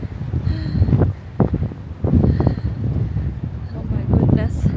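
Strong gusty wind blows on the Fjellstua mountain top above Ålesund, Norway, a close, rumbling buffeting across the mic while someone talks.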